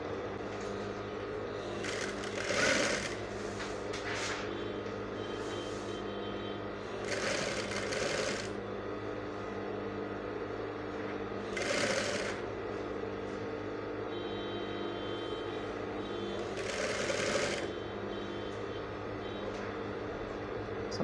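A sewing machine stitches bias binding onto the neckline of a cowl kaftan, running in a steady continuous whir broken by four louder bursts of faster stitching, close and alone without talk.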